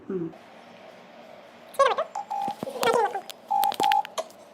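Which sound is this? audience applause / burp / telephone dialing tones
telephone dialing tones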